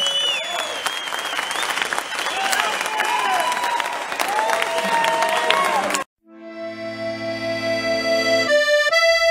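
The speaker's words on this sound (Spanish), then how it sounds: "fuerte aplauso a estos vaqueros" Loud crowd applause with cheering for performers at a Galician festival event, filling the first six seconds before cutting abruptly to music for the rest.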